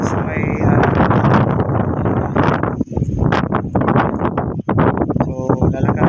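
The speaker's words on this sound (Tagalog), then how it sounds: "mainit at saka mahangin" Strong outdoor wind buffets the microphone in a steady roaring rumble beside a coastal road project, with a voice talking intermittently underneath.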